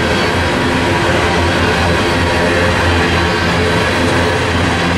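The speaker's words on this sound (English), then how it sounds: "when you got a good grain train like this over Tehachapi" A grain freight train rolls past on the Tehachapi line in California, a steady loud rumble of wheels and cars that keeps up without a break, close by, with no voices.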